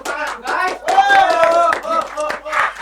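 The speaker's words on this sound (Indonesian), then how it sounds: "Tepuk tangan, guys." Podcast hosts clap their hands in a small studio, a few sharp close claps mixed with laughter and cheerful talking voices that dominate the moment.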